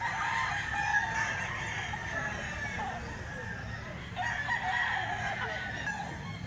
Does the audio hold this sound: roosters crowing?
yes